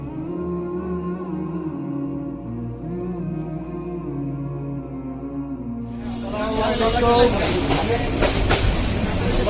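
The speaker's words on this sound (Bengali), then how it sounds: "আমরা এখন ট্রেনে করে যাচ্ছি শ্রীমঙ্গলের হামহাম ঝর্ণা দেখার জন্য" A train heading to Sreemangal, Bangladesh, rumbles along steadily, then the noise swells into a louder rushing clatter after a few seconds.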